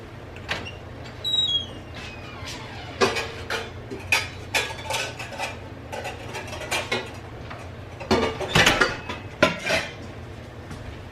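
Glass bowls are set out and handled on a kitchen counter while making chicken enchiladas, giving repeated clinks and knocks at irregular intervals, some sharp and close, with a couple of louder clusters over a steady low hum.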